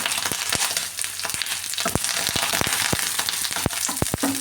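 Garlic, dried red chillies and curry leaves fry in hot oil for a padavalanga roast, a dense close sizzle punctuated by many sharp crackles and pops.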